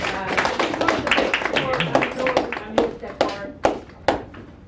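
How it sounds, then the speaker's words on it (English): An audience at a talk on Black psychotherapy claps, starting as a dense round of applause that gradually thins out into a handful of separate, sharp hand claps before dying away. "Give her a round of applause."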